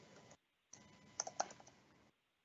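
Computer keyboard typing during an online building-appeals hearing, a steady patter of soft key clicks with a few louder taps, near and quiet, broken by a short pause.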